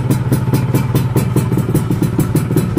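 A 1997 Yamaha RXZ two-stroke motorcycle idles close by, its engine putting out a steady, rapid pulsing putter with a faint metallic clatter and no voices.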